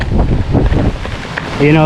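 Strong, cold winter wind buffets the microphone in a steady roar while biking, with faint voices in the background and a brief tonal hum near the end.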